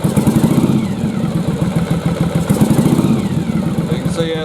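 A Yamaha Virago motorcycle engine that is only running on one cylinder some of the time, idling with an uneven, clattering throb as the throttle is opened, and a voice talking over it.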